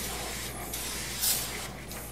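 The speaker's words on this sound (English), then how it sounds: "lubricating the counter area by spraying it with some LPS2" A steady hiss of an aerosol can spraying LPS 2 lubricant continuously onto a 2500 ATG counter, close up, with a brief stronger burst partway through.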